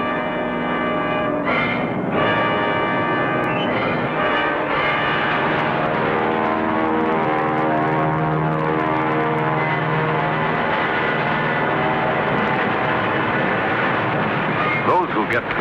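WW2 aircraft fly over Bougainville in the Solomon Islands, their engines a loud, steady, droning roar that holds without a break for about fifteen seconds.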